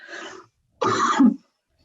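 Two separate coughs, the second louder and harsher, with a short silent pause between them.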